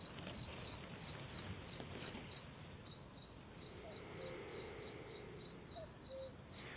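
Crickets chirping in a forest at night, a steady rapid pulsing trill repeating evenly throughout, soft and moderately distant over faint background hiss.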